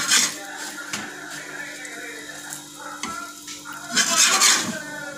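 A burger bun frying on a hot tava, with scraping and clinks of a spatula against the pan over a light sizzle, louder bursts at the start and near the end.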